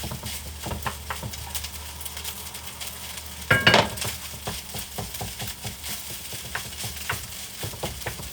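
Rice hitting a hot pan with onions, a sudden loud sizzle burst partway through that settles into steady crackling with light stirring scrapes.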